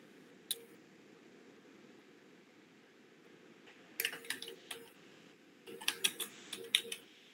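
Fingers tap a computer keyboard to enter a name into a web form, with a single click followed by short bursts of quiet, close keystrokes in an otherwise hushed room.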